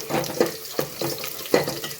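Mustard seeds, cumin and dried red chillies fry in hot oil in a home kitchen pan, giving a steady close sizzle broken by several sharp crackling pops.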